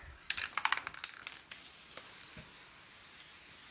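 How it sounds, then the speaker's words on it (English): A rapid series of light clicks gives way to a steady, soft hiss of wood finish being sprayed onto a small piece of wood, continuing evenly to the end. "And finish spraying it"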